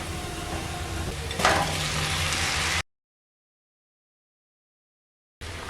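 Potato, cauliflower and prawns fry with green chillies in a spice masala over a medium flame, giving a steady close sizzle with a louder stirring burst for under three seconds before the sound cuts to silence, then returns briefly at the end.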